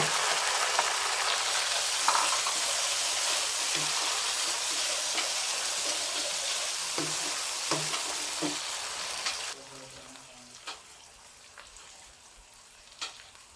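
Frying in a pan for a carrot curry: a loud, dense sizzle fills the first stretch with occasional stirring clinks, then drops abruptly to a quieter simmer with scattered taps.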